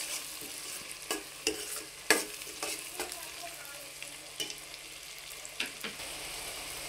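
Salted onion pieces fry in a pan for a drumstick and egg curry, a steady sizzle punctuated by sharp, irregular spatula clicks and scrapes as they are stirred, up close and without talk.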